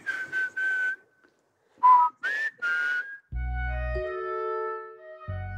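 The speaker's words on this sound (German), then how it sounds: "Ja, wir pfeifen." Several whistled phrases lure squirrels in a forest, sharp rising and steady tones in short bursts, followed by a longer sustained melodic passage with deep low tones underneath, clear and close.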